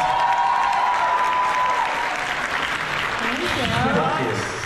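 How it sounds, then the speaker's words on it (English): Audience applause at a comic con Q&A for voice actors: steady clapping from a crowd fills the clip, with a voice speaking briefly near the end. "You guys should give them a round of applause"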